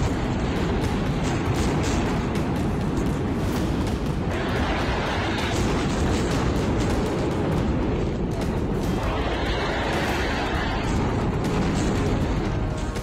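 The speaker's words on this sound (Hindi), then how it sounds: "कई मील दूर तक धमाकों की आवाज जाती रही।" Heavy, rolling booms from distant bomb explosions in Gaza follow one another continuously, a dense rumbling barrage with no clear gaps.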